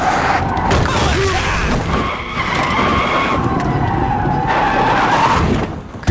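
Tires screech loudly as a car skids on a country road in a suspense film, a sustained squeal with brief breaks and a sharp jolt at the very end.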